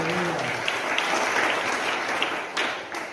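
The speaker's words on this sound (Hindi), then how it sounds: "जोरदार ताली बजा के प्रभु की महिमा करेंगे" A congregation at a spiritual awareness meeting in Hanwatchond claps loudly and steadily in praise, a dense, sustained wash of applause with a few brief voices over it.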